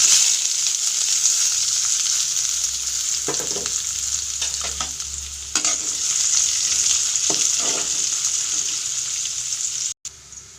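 Chillies and chopped onion frying in oil with popped mustard seeds, a steady bright sizzle broken by several spoon stirs and scrapes, close and loud, with no talking.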